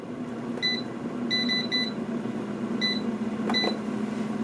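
An air fryer timer gives short electronic beeps, single and in quick triplets, scattered over a steady background hum, with a few clicks near the end and no talk.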